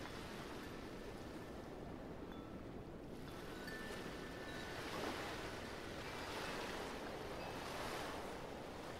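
Ocean waves washing up onto a sandy beach at the water's edge, foam spreading over shells and seaweed before retreating; a steady, soft surf rush with gentle swells, no voices.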